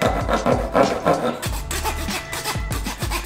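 Wooden chopsticks being sawn in half with a bread knife, a close, loud rasping back-and-forth stroke repeated in rhythmic bursts, with a brief pause partway through.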